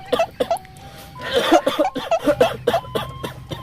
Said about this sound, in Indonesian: Ari aki teh batuk apa gering?